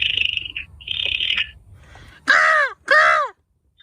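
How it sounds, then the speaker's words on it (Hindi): A crow perched nearby gives two loud, harsh caws in close succession after softer earlier bird calls, with little else around it. "एक कौवा है, मैं बैठा हूँ बहुत देर से, यहाँ से ये जाने का नाम ही नहीं ले रहा है।"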